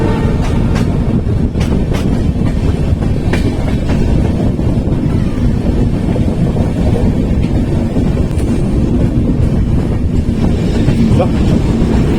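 A passenger train rolls along the rails in a continuous loud rumble, with steady low wheel noise and occasional clicks and wind buffeting throughout.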